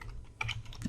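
Several quiet, crisp keystrokes tap on a computer keyboard in a quick burst lasting under a second.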